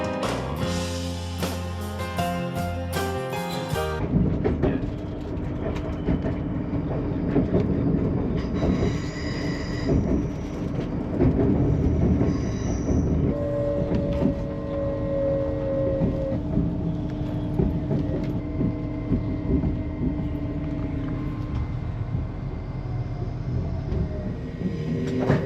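Passenger train rolling over a bridge across the Tyne, a steady loud rumble of wheels on track with clanking rail joints and a brief high screech near the start, heard from inside a carriage.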